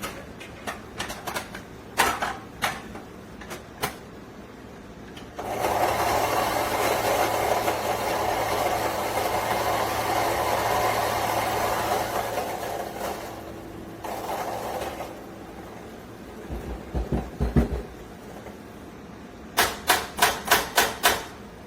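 Fellow Ode coffee grinder on grind setting 2 with 15 grams of beans: a steady motor whir grinding for about eight seconds, bracketed by sharp clicks and taps of handling before and after.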